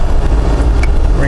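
A Jeep JK with an LS 5.3 engine swap and the stock 3.8 liter exhaust revs up, loud and close, a deep steady engine rumble with no talk.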